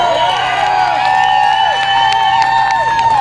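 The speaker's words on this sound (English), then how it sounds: "And we shouldn't be cheering that, right?" A large rally crowd cheers and whistles loudly and continuously, with sustained shouting and high whistles rising and falling over the roar.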